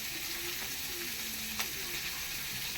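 Onions, green chillies and curry leaves frying in oil make a faint, even sizzle, broken by a single small click midway.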